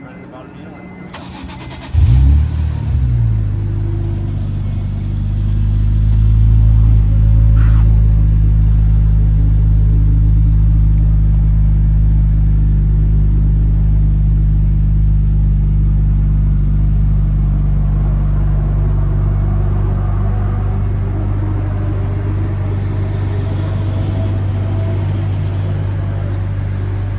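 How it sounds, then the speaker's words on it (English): A 2007 BMW Z4 M Coupe cold-starts with a brief starter whir and a loud catch, then the engine flares up and settles into a steady, deep, rumbling idle that holds close and loud for the rest of the stretch. "So we're now going to do a cold start video."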